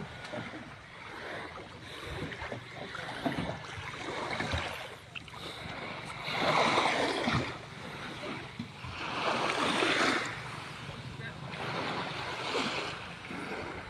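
Sea waves wash against rocks at a marina on a fishing coast. The surf swells and recedes in broad rushing surges, loudest around the middle and again later, with steady wind buffeting the microphone throughout.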